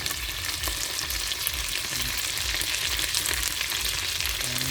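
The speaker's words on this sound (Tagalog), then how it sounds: "Itong luto lang tayo ng tuyo mga idol." Dried fish (tuyo) frying in a pan over a wood fire, with a steady, close crackling sizzle that runs continuously without pause.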